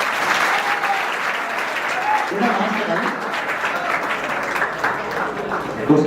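Steady audience applause rolls through a seminar hall for an announced participant, many hands clapping continuously at close range while a voice speaks over it.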